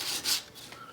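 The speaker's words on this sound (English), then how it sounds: "So we'll go ahead and sand that one area." Light sanding on one side of a model rocket part gives a soft, faint rubbing scrape in a couple of short strokes, heard alone.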